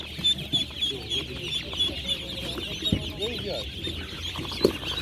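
Chickens and young fowl at a poultry market cluck and peep close by in a busy overlapping chorus, with brief talk in the background.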